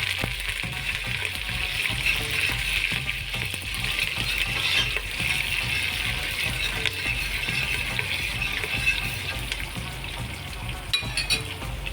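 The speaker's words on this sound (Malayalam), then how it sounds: "പച്ചമുളക്, അതുപോലെ തന്നെ കറിവേപ്പില എന്നിവ ചേർത്ത് നല്ലതുപോലെ ഒന്ന് ഇളക്കിയെടുക്കുക." Garlic, green chillies and curry leaves frying in a pan as they are stirred, giving a steady loud sizzle with scraping stir noises and no talking.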